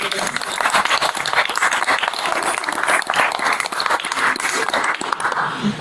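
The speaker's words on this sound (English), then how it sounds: "Big round of applause for Sad Girls." Audience applause at a live stage event, dense and sustained clapping that fills the room for several seconds at full strength.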